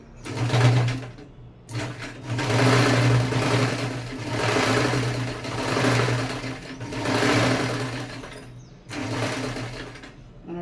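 A sewing machine stitches through a thick handmade doormat, running in several loud bursts of steady whirring with short pauses between runs, straining a little under the heavy material.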